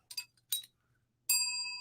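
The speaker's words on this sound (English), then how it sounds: "And you get a bell." Two short metallic clinks are followed by a bright bell ding that rings out clearly and slowly fades, close and quiet with no talk.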